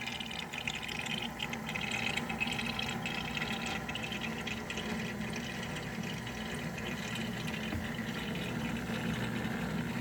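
A 13-liter Liberty fruit and vegetable purifier hums and churns water with its lid shut. The steady, muffled running sound is quiet and continuous, with no talk.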